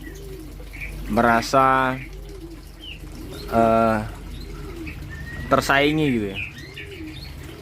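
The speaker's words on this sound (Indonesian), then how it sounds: "Oh itu betina yang bunyi guys ya." A female breeding dove coos inside a coop, giving three separate throaty calls spaced a couple of seconds apart, close and clear, while a person talks quietly between and over them.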